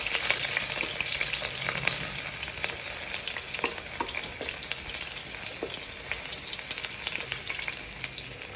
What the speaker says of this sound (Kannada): ಈರುಳ್ಳಿ, ಸ್ವಲ್ಪ ಫ್ರೈ ಆಗಲಿ ಚೆನ್ನಾಗಿ.